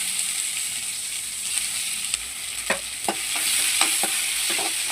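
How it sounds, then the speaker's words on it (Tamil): Mustard seeds, urad dal, cumin and chopped onion sizzling and frying in hot oil in a pan, a steady close hiss with scattered crackles and pops, no talking. "கடுகு, உளுத்தம்பருப்பு, ஜீரகத்தை போட்டு பொரிய விட்டுக்கலாம்"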